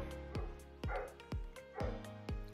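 A neighbour's dog barks repeatedly from nearby, with five or six sharp barks spaced roughly half a second apart and no talking in between.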